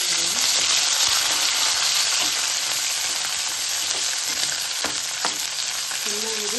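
Garlic and tomato fry in a pan with a dense, continuous sizzle and occasional stirring clicks and scrapes, close and fairly loud, with no one talking.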